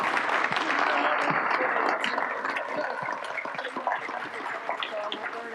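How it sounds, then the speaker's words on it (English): Audience applause at a business fireside chat with Governor Abbott and Oxy's Vicki Hollub: dense, loud clapping that thins out toward the end. "a round of applause for Vicki Hollub and Governor Abbott"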